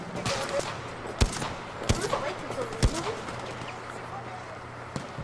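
Gunfire in the video game Battlefield V: several sharp, separated shots crack out at irregular intervals over a steady background hum, with players chatting and laughing.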